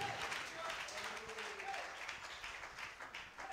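A church congregation claps in applause, a soft, continuous patter heard faintly beneath a person speaking during a sermon about Jesus.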